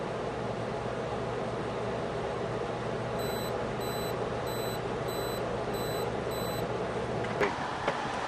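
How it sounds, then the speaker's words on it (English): Six tiny, evenly spaced high-pitched beeps from a Frigidaire window air conditioner sound faintly over a steady droning hum, followed by a couple of sharp clicks. "with that little tube in there pushed up against the diaphragm, it makes a tiny little beep"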